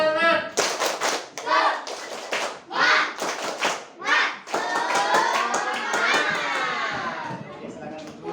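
Children in a classroom chant and clap a rhythmic spirit clap together, with bursts of claps and young voices overlapping. The sound is close and lively, and patterned chanting runs throughout.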